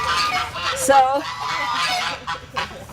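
White China geese at a farm sanctuary honk repeatedly in nasal bursts close by, a person beginning to speak briefly among the calls.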